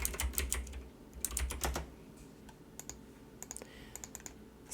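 Close, fast keyboard typing in uneven bursts of keystrokes, with a few sparse single taps and short pauses between runs while the clicks stay crisp and distinct.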